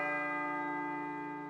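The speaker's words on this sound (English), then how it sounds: "It sounds like a bell, but where's it coming from?" A single bell in Persona 3 PSP rings with a sustained, steady tone that slowly decays over a second and a half, heard alone without talking.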